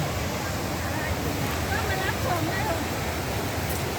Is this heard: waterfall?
yes